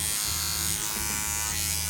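An electric toothbrush with a rotating head buzzes steadily up close, its motor note wavering slightly as it works across the teeth.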